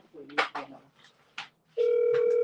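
A telephone call goes unanswered: after a few brief spoken words, a steady ringback tone starts and holds without break to the end.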